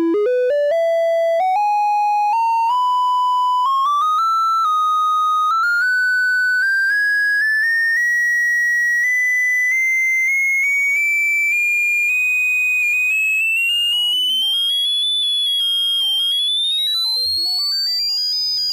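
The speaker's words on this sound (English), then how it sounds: "And you can hear a little bit of heterodyning in the background there." A BMC120 Digital Depth VCO in a modular synth sweeps upward in steady stepped pitch jumps. Thin whining heterodyning overtones shift around the main tone, loud and continuous with no talking.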